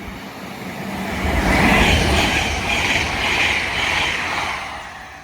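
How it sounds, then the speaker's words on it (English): Avanti West Coast train passing through Nuneaton on a service to London Euston, a loud close rumble of wheels and carriages swelling and holding steady for several seconds. "Advance West Coast service from Collier to London Euston."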